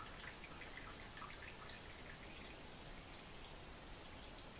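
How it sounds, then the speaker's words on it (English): Water draining off cooked spaghetti indoors, a steady soft splashing and dripping rush that runs continuously at low volume with no talk. "Now I'm going to drain the water off of the spaghetti"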